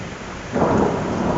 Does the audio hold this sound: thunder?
yes